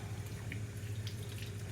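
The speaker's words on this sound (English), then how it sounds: "if I feel like they need to be washed, I'm going to wash them" Kitchen tap water running steadily into a sink while fresh produce is washed, a continuous close splashing flow with a low hum underneath, no speech.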